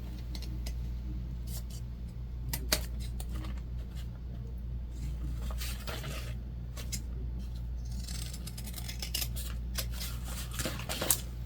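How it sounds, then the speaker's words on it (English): Scissors snip through fabric seam allowance on a sewn pouch, a string of quick, close crisp cuts over a steady low hum. "I'm just gonna cut off some of the exterior, some of our bulk here."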